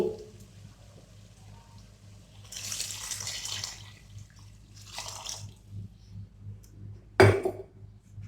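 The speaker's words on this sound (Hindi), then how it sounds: "अभी हम इसमें ऐड करेंगे हाफ लीटर पानी।" Half a litre of water splashes and pours into a cooking pot of fried mutton for malai karahi in two short bursts over a low background hum, followed by a sharp clatter near the end.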